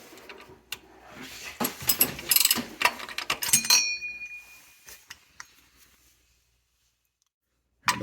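Ratchet tightening the plastic oil filter housing cap on a Lexus CT200H, a burst of rapid clicking pawl strokes and metallic tool clinks nearby, fading to silence before a final click.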